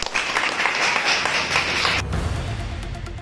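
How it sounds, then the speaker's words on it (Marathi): Crowd applause at a railway station event, a dense, steady wash of many hands clapping at close range that rumbles on without a break. "जोरदार टाळ्या झाल्या पाहिजे"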